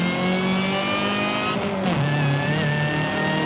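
Car engine in Forza Horizon 5 fitted with a race supercharger, a loud sustained whine layered over a steady engine drone that dips and rises in pitch midway as the revs shift, with no talk.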